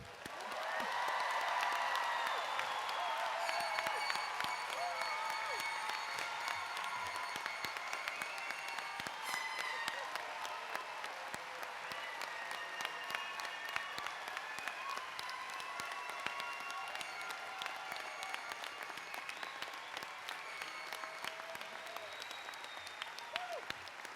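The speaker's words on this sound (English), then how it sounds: "We will conclude with a final applause for the class of 2019" Final applause for the graduating class of 2019 at a business school commencement ceremony, sustained crowd clapping with scattered cheers and whoops, holding steady before tapering slightly toward the end.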